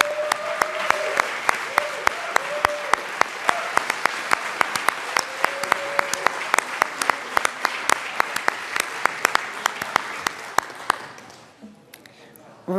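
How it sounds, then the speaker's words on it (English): A legislative chamber in the Colorado House breaks into steady, sustained applause welcoming a U.S. Army veteran, dense clapping from many hands that fades out near the end. "Please take a moment and let's welcome him with a round of applause."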